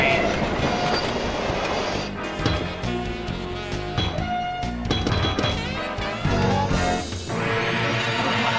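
A loud train sound effect from a pinball arcade game, with continuous rumbling rail clatter and squeals layered with game music and electronic effects throughout.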